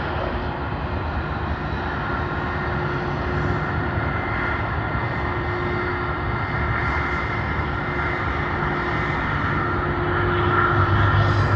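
Jetstar airliner close by at Sydney Airport, a loud steady engine drone running throughout without a break, with no talk.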